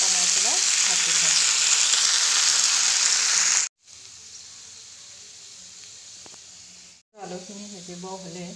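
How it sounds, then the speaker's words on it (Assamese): Potatoes fry in oil with onion, salt and turmeric over lowered heat, a loud continuous sizzle and hiss close up, briefly broken by two short gaps and light stirring clicks. "অলপমান জুইটো কমাই পেলাই ভাজি থ'ম"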